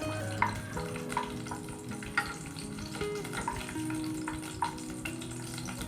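Cashews and almonds frying in a pan for aval payasam, a continuous moderate sizzle broken by regular clicking stirs of a spoon against the pan, no talking.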